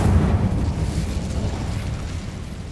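A fire spell, Incendio, cast in the Hogwarts Legacy video game: a loud, rumbling burst of flame that whooshes and roars for nearly three seconds, gradually easing off with no pause.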